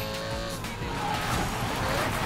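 Car drifting in the racing game Need for Speed Payback, a steady loud engine roar with tire squeal and skidding running throughout, close and continuous with no pauses.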